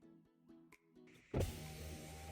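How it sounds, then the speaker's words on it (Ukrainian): Electric power windows on an Opel Zafira Tourer C 1.6 CDTI whir in short motor bursts, then a louder sustained motor run ends the clip, close inside the car, with no talk. "склопідйомники пашуть"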